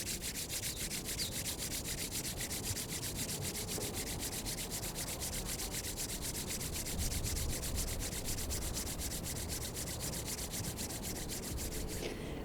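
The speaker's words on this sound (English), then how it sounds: "just beginning by placing the palms together and rubbing them together 24" Bare palms rub briskly together for a qigong face massage, producing a close, continuous dry swishing made of rapid, even back-and-forth strokes.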